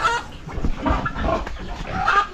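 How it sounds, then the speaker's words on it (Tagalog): Chicks cluck close by in a busy stream of short, overlapping calls, fairly loud and continuous. "Sisiw ni Tatay Riot."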